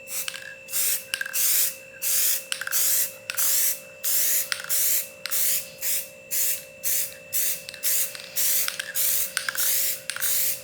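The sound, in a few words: spraying Behr Metallic Vintage Gold spray paint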